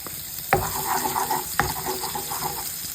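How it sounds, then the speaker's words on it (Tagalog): Garlic sautés in a little oil in a pan with a steady close hiss, and two sharp spatula knocks against the pan stand out above the sizzle. "Tayo ng konting mantika. Magigisa na tayo."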